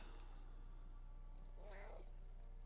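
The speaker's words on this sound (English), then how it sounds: "did you guys get that purring?" A cat is recorded close to a microphone, with a soft, low rumble of purring over a steady electrical hum and a brief meow-like vocal sound near the end.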